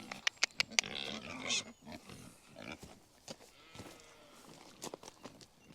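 Pigs on a working farm, with grunts and snuffling close by among irregular thumps and footsteps, several sharp knocks early on, and a few short low human sounds.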